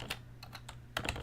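Typing on a computer keyboard with unfamiliar key placement: a short run of close, crisp key clicks in an irregular rhythm, with a quick double tap near the end, heard alone without talk.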